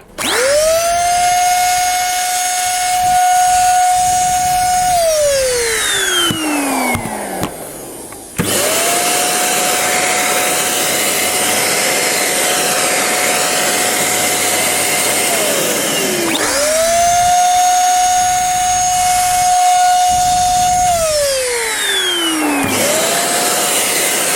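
Two small Simplus 400 W vacuum cleaners, the smaller first and then the larger, whine loudly in turn, each spinning up to a steady high hum and then winding down, with a short gap of quieter running between them.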